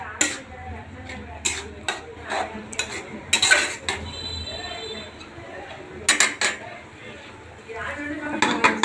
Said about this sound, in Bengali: এখন মশলা কষাবো ভালো করে